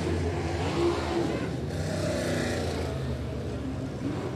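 A winged WAR sprint car's engine drones loud and steady through a dirt-track race heat, with a broad roar of several cars as one spins out in front of the field during POWRi Illinois Speed Week.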